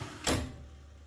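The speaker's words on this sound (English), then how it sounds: "Okay, and then shut the door." A bakery oven door shuts with one short, fairly quiet thud after sourdough loaves are loaded for steaming, followed by a low steady hum.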